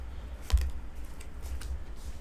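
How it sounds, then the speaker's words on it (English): Tea leaf oracle cards are shuffled, giving faint soft papery ticks and light taps at irregular intervals, close by in a quiet room. "these tea leaves are really hard to shuffle, so I have shuffled and shuffled them"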